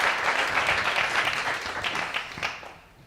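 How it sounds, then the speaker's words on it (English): An audience at a UX and data design talk applauds as a speaker is introduced, a full wash of clapping that holds steady and then thins and fades out near the end. "Let's give a round of applause for Jess Dale."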